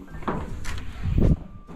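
A hotel door is opened and closed nearby, with a light click and latch rattle followed by a dull, muffled thump as it shuts, no voices present.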